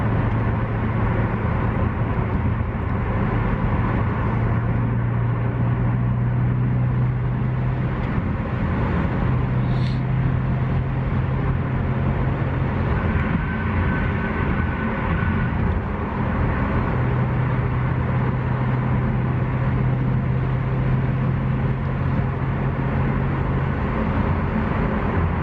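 From inside the cabin of a 2017 Ford Mustang GT350R on a ride along, the engine gives a steady loud droning roar, holding high RPM with slight shifts in pitch throughout.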